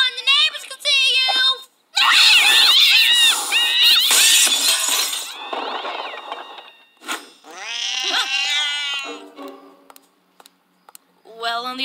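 A cartoon cat meows and yowls loudly in repeated, stretched, wavering cries, broken by brief pauses and a few noisy, crashing bursts.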